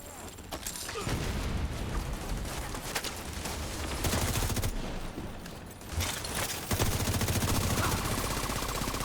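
Sustained rapid video game gunfire from shooting an enemy in the back, dense bursts of automatic fire with brief pauses, loud and continuous throughout.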